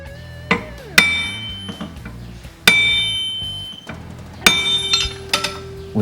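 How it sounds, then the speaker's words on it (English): Sharp metallic hammer strikes ring out on a car body panel held under tension, several spaced blows with ringing decay, loud and close. "you can hammer the distorted areas"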